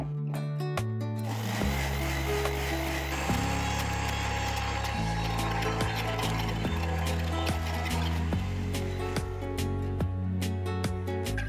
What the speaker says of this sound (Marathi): आता हे छान आपल्याला वाटून घ्यायचं आहे. त्याची एक एकदम थिन अशी पेस्ट तयार करून घ्यायची.